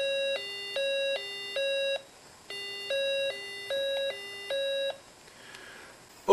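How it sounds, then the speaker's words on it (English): An electronic two-tone siren from a small LM386 audio amplifier alternates between high and low pitches in steady cycles, pauses briefly, then repeats, ending with quiet noise. "Or I could generate a siren"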